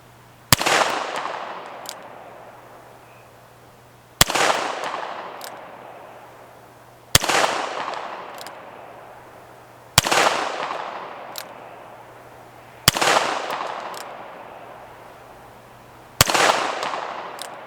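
Six sharp shots from a Smith & Wesson Model 10 .38 Special revolver, a police trade-in, fired at a 100-yard range, evenly spaced about three seconds apart, each loud crack trailing into a long fading echo.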